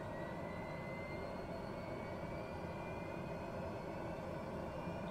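An aircraft engine runs at low idle during startup before taxi on a flight from Indianapolis to Cincinnati, a loud, steady broadband drone with faint whining tones that slowly rise, with no voices.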